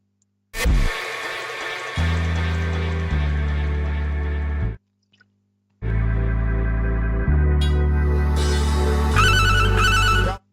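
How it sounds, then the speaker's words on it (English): A phone ringtone plays loudly and close, a looping electronic melody that stops briefly near the middle and then resumes, with no one speaking. "Your phone ringing."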